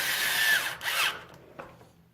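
A power drill drives screws while fitting an aftermarket front bumper to an Arrma Kraton V3 2018 RC truck: one loud, short whirring burst that ramps up, then dies away.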